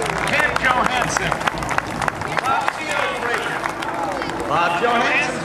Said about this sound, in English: how about a nice round of applause for the GEICO Skytypers?